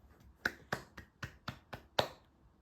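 Seven distinct hand claps in a slow, fairly even rhythm, crisp and close in a quiet room, each a sharp isolated slap with short gaps of near silence between.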